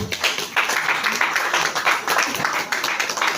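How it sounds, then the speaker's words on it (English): A crowd at a Lagos workshop against drug abuse claps continuously, a busy close wash of hand claps with some brief uneven swells. "If you want to clap, let us clap."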